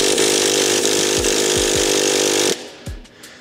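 A Traxxas T-Maxx RC nitro engine cranks during a cold start after ten years unused, giving a loud, buzzing whir with repeated pulses that cuts off abruptly, then a few short spins follow.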